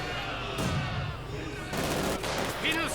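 Semi-automatic SVT-40 rifle fire from Soviet penal troops in the Company of Heroes 2 strategy game, with scattered bursts and shots in a busy battle mix, under a steady background of game noise.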